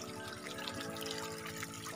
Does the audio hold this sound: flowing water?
yes